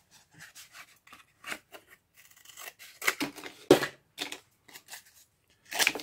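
Scissors snip through thin sheet metal for tabletop scenery, a few short, quiet, intermittent cuts with pauses between them, heard up close with no talking.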